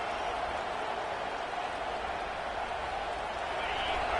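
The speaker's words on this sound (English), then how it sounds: "Listen to this crowd just shaking the girders of this place, trying to help their defense." A packed stadium crowd at a Texas A&M versus Oklahoma college football game gives a constant, dense roar that holds at an even level throughout, with no distinct voices.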